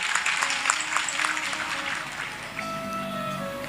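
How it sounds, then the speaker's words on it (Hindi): A gathered audience claps together at a devotional religious storytelling session. Dense, lively applause rises at the start, then thins and fades, with a sustained tone entering near the end. "माता जी के लिए आप सभी लोग ताली बजा दीजिए।"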